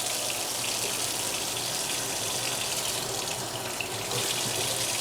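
Running tap water pours steadily into a sink while an apple is rinsed under the stream, a constant close gushing hiss with slight shifts in tone and no voices.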